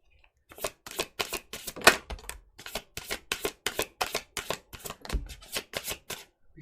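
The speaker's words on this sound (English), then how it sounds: "let's just get these shuffled here" Tarot cards being shuffled by hand in a run of crisp, rapid riffling bursts, close and fairly quiet, with a few short pauses between passes and no talking.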